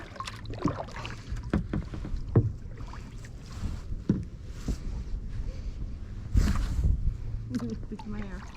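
Kayaks paddled on the Murderkill River near Killens Pond: intermittent paddle splashes and water knocks under wind noise, with people talking throughout.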